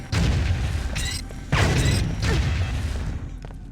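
A concussion grenade goes off in Deus Ex 2: Invisible War with a loud, sharp burst, followed by rumbling, clattering game noise and a second heavy impact.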